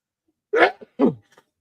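A single sharp sneeze bursts out close by, followed by a short second sneeze-like burst, then quiet.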